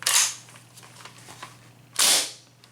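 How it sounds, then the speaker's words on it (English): A King Arms SVD Dragunov CO2 airsoft rifle fires, a sharp close bang followed by quieter mechanical clicks, then a second loud burst of gas near the end. "And there you go, a nice bang."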